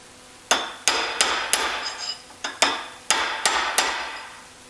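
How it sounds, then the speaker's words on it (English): A hammer strikes about ten times in an uneven rhythm, each blow loud, sharp and close, pinning a lock nut during final assembly of a Porsche 915 transmission. The blows ring in a quiet workshop with no talk. "I just need to pin my lock nut right here."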